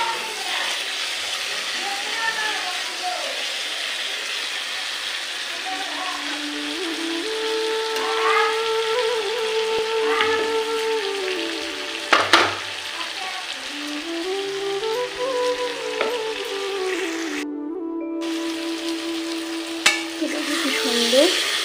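Pabda fish curry with ridge gourd cooking in a pan, a steady soft sizzle with gentle stirring scrapes, and a voice talking over it throughout.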